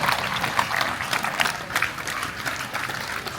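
A crowd applauds a third-place finisher at an extreme obstacle running race in Kazliškis, with steady, dense clapping from many hands, near and sustained throughout the moment.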